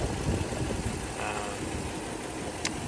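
A 2004 Toyota Land Cruiser with a 2UZ V8 engine idles steadily, a smooth low rumble heard close up in the engine bay, with a faint voice nearby.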